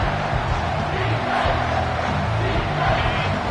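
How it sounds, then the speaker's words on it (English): A home football crowd roars steadily on third down as the defense tries to get off the field, a dense, sustained wash of cheering voices with no break across the clip. "Here comes this home crowd as the defense tries to get off the field on 3rd down"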